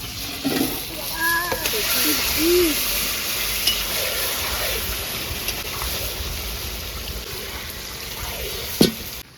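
Meat goes into fried onions in hot oil, setting off a loud sizzle that continues through the clip. Scraping and stirring can be heard, a brief tonal sound comes early, and a sharp knock comes near the end.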